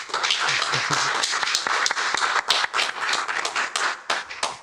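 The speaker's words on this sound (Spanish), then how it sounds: "un aplauso para Carlos" An audience applauds steadily after a talk on migration, dense overlapping hand claps sustained across the whole span at fairly close range, with no speech over it.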